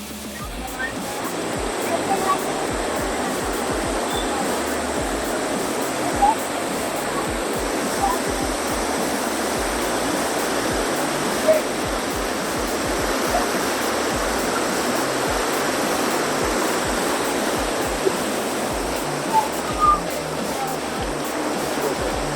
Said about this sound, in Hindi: तो ये नीचे पानी का प्रेशर जा रहा है इसमें, और वो उसे घुमा रहा है।